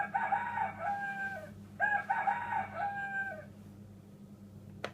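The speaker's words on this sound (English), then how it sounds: "Red rooster." A toy red rooster plays a recorded crow, two full cock-a-doodle-doo calls close and clear, followed by a short pause and a faint click.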